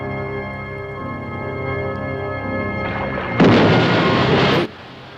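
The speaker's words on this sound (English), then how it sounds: "Stock footage of explosions." Stock footage explosions: a broad rumbling roar builds, then a loud burst erupts and holds for about a second before cutting off abruptly.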